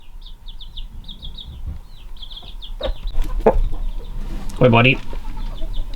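A mother hen with two young chicks clucks and chirps outdoors, with rapid high peeps repeating at first and then a louder squawk near the end. Someone speaks briefly over them.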